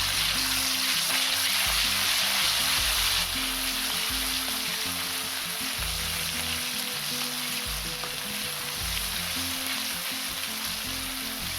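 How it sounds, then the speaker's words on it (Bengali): Chopped onion and mustard paste fry in oil in a wok for a village-style silver carp curry, giving a dense, steady hissing sizzle with soft intermittent stirring thumps underneath, close and constant. "একটা কড়াইতে তেল পেঁয়াজ কুচি সর্ষে বাটা এগুলো দিয়ে ভালোভাবে নাড়াচাড়া করে নিতে হবে"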